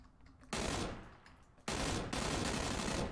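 Bursts of automatic gunfire in the PUBG battle-royale video game, two loud sustained volleys of rapid shots with a brief lull between, close and dense with no talking.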